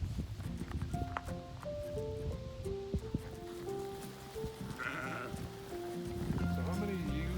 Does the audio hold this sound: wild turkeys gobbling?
no